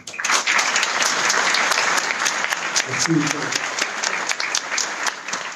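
Sustained audience applause at a members' event, dense and steady clapping filling the room throughout, with a short spoken word of thanks breaking through partway.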